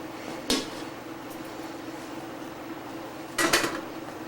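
A spoon stirs hot, thick couscous in a pot, making two brief clinks and scrapes a few seconds apart over a low, steady background hum.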